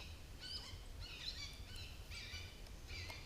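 Birds calling at the CREW Bird Rookery Swamp in Florida, several short chirping calls in quick succession, moderately distant over a steady outdoor hum, with no talk.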